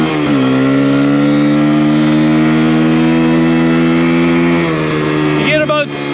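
A Kawasaki KLX140RF dirt bike engine runs loud and close at high speed in third gear, a strained, steady buzzing rev with a pitch shift partway through and wind noise toward the end.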